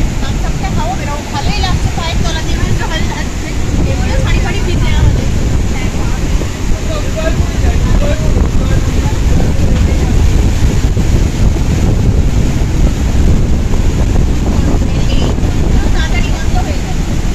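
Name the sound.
sea waves washing up on the beach at Mandarmani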